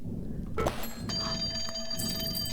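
A telephone rings inside a slot machine video game, a bright electronic ring repeating over the game's steady background music and effects, with no talking.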